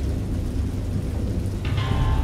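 Rain and rolling thunder in the Lovecraft-based game Dagon, a steady dense wash of rainfall with low rumbling underneath and a brighter burst of downpour near the end.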